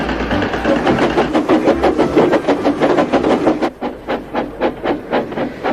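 Thomas, the cartoon steam engine, puffs along in steady, rhythmic chuffs of hissing steam while a tractor works in the fields nearby, the beat briefly faltering before resuming close and loud.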